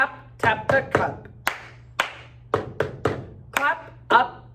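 A quick, steady rhythm of hand claps and hard taps of a cup against a table, crisp and close, repeating in a simple clap-and-tap pattern over a faint background hum.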